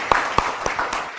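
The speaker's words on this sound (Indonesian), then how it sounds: "Yuk kita beri tepuk tangan dulu yuk." A studio audience claps for a moment, a few distinct claps followed by lighter scattered clapping that dies away fast.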